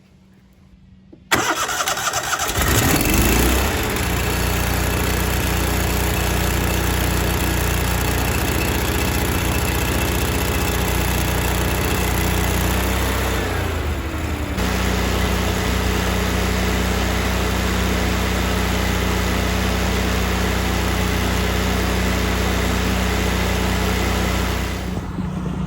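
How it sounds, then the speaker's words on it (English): A gasoline generator welder starts up with a brief crank, then settles into a steady, loud, close engine drone that runs on evenly with a slight shift in pitch partway through. No talking is heard. "the generator welder is still running"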